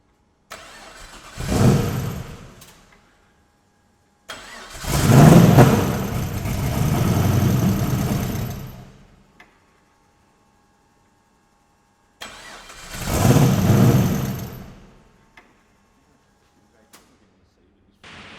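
An old car engine cranks and catches three times, each start running for only a few seconds before dying out, leaving silence between attempts; nearby and fairly loud.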